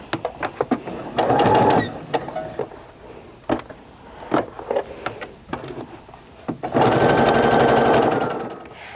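A sewing machine stitches quilt blocks for a Valentine's mug rug at a quarter-inch seam, running in short whirring bursts at first, then in a longer steady run near the end.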